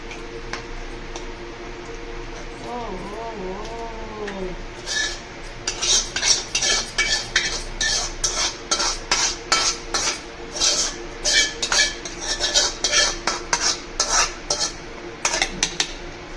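Tomatoes are stirred in a pan with a spoon. After a few quiet seconds, a regular series of metallic scrapes and clinks begins and repeats close by over a faint sizzle.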